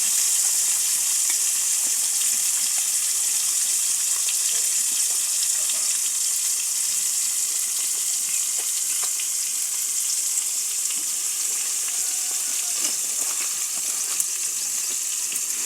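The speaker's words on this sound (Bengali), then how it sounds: "এদিকে মাছগুলো ভাজা হতে থাক" Bhetki fish pieces coated with chili and turmeric sizzle in hot oil, a dense, steady, loud frying hiss that stays even throughout with no voices.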